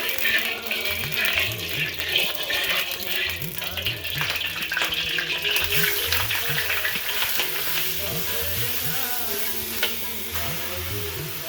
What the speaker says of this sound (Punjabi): ਘਰ ਦਾ ਘਿਓ ਬਣਾਇਆ ਹੋਇਆ ਤੇ 2 ਚਮਚ ਆਪਾਂ ਘਿਓ ਦੇ ਪਾਉਣੇ ਨੇ ਤੇ ਵਿੱਚ ਹੀ ਗਾਜਰ ਐਡ ਕਰ ਦੇਣੀਆਂ ਨੇ